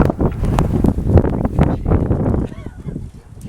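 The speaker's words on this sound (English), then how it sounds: "Can't even breathe. It's so windy out there." Strong wind from a whiteout snowstorm in North Georgia buffets the microphone and roars loudly and continuously, then eases slightly toward the end.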